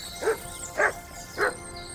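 Three short, evenly spaced dog barks in the medieval role-playing game Kingdom Come: Deliverance II, close and clear over a quiet ambient background.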